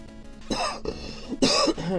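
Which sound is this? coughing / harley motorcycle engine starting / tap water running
coughing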